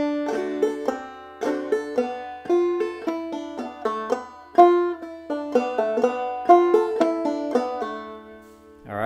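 A clawhammer banjo plays a passage of Logan County Blues in a steady bum-ditty, skip-stroke rhythm, bright plucked notes and drone string ringing close and clear for several seconds, with no voice.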